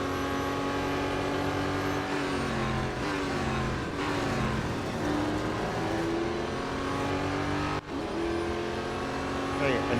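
Duqueine D08 race car engine in the Real Racing 3 video game, a loud continuous high-revving drone whose pitch climbs and dips through gear changes and braking, with a brief dip near the end.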